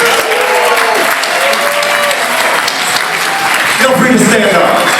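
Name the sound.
thunderous applause at gala introduction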